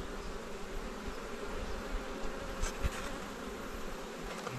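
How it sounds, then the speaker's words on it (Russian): Italian Cordovan honey bees crawl over a hive frame, giving a steady, fairly faint hum of many wings with no voices. "Пчелки отсюда медок весь перенесуть"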